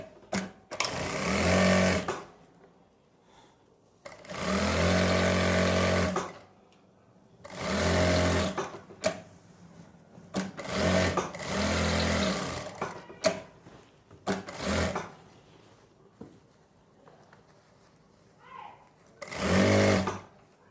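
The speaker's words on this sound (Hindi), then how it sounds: "जहां तक हमारी पॉकेट है वहां तक हम सिलाई लगा लेंगे" Sewing machine stitching a pocket onto a garment in several loud bursts of a couple of seconds each, separated by pauses with faint handling noise.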